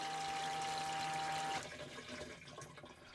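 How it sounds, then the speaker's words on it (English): Water rushes steadily through a motorhome cassette toilet during a flush, a close, broadband gushing that holds for about a second and a half, then falls to a quieter trickle and drain. "Once you've used the toilet, give it a flush."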